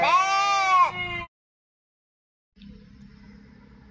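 Sheep and lambs bleat while being loaded in a village, opening with one loud, close, wavering bleat, then silence, then a quieter low bleat.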